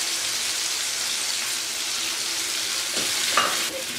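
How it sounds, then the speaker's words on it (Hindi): Finely ground ginger fries in a pan of oil while cooking a potato dish, giving a steady, close hiss of sizzling with a brief stir or scrape near the end. "1 मिनट तक हमने इसमें अदरक को भून लिया है।"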